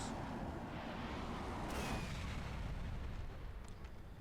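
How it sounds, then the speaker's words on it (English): Rockets launching in Lego Star Wars: The Force Awakens, a dense continuous rumble of blasts with a bright crack near the two-second mark, loud throughout and fading slightly toward the end, with no talk. "Fire off rockets."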